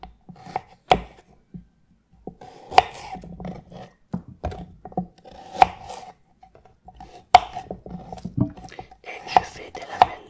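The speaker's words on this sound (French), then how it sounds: "Et je fais des lamelles de carottes." A knife slicing carrots into strips on a cutting board, sharp separate chops in an irregular rhythm with quiet gaps between, close and clear, with soft speech now and then.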